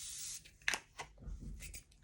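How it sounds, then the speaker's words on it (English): Setting spray misted onto the face during a glam makeup routine: a brief, close hiss burst followed by a couple of softer spritz-like bursts over quiet background handling. "I'm gonna spray my face again."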